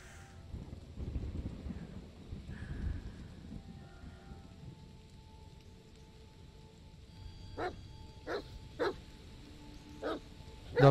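A dog in the horror video game The Medium gives a few short, sharp barks toward the end, fairly distant and spaced a second or so apart, over a low windy ambient background with no talking.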